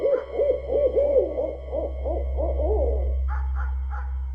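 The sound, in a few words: owl hooting at night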